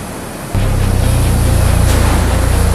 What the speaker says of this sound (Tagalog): magalaw lang ang dagat ngayon